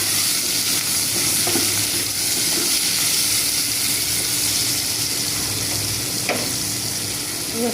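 Chopped onions with a pinch of nigella seeds fry in a pan with a constant, loud sizzle and hiss. Occasional stirring scrapes sound close by.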